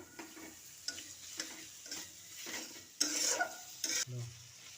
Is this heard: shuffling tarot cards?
no